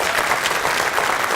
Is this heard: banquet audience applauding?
yes